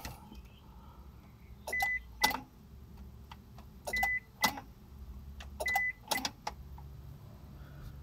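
Repeated clicking from the fuel pump relay of a 2000 Honda Passport during attempts to crank, in three clustered bursts with sharp clicks and brief electronic tones over a low steady hum, close and fairly loud.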